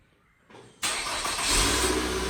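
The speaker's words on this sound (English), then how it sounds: "I'll demonstrate the remote start." A click, then a 2017 Nissan Altima 2.5 S engine cranks and catches on remote start, settling into a steady idle close by.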